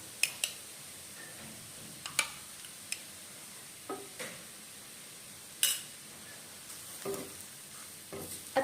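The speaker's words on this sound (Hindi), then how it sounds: "अच्छी तरीके से इसे मिलाएंगे। गैस की फ्लेम इस समय बिल्कुल हमें लो रखनी है और हमें बेसन को अच्छी तरीके से भूनना है।" Gram flour being stirred and roasted in a pan over a low flame: quiet dry scraping with scattered sharp spoon clicks and taps against the pan, no voices.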